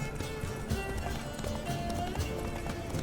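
Roach, the horse in The Witcher 3, gallops with quick rhythmic hoofbeats amid game music and ambience, the clip-clop steady and close throughout.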